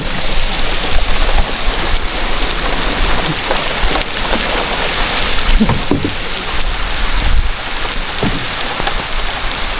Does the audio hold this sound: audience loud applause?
no